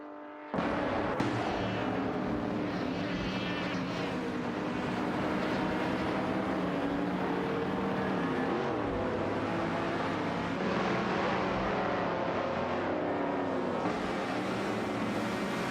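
Ford Falcon 71 and Ferrari 275 GTBC race cars roar in an AI-driven racing video game, a dense, steady engine drone with shifting pitch sweeps that runs loud and continuous throughout with no voices.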